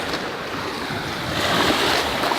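Surf rolling onto a sandy beach in Puerto Rico, a steady broadband wash with wind buffeting the microphone, swelling slightly louder in the second half with no voices.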